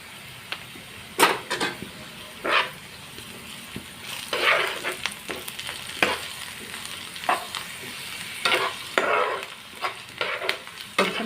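Ginger garlic paste with turmeric fries quietly in oil for a kasuri methi beetroot fry. A soft constant sizzle runs under irregular scraping spatula strokes through the pan, with no talking.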